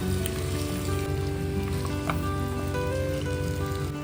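Potato cubes cooking in a pan for Sikkim-style aloo thukpa give off a soft, steady sizzle, an even low hiss that holds unchanged throughout with no voices.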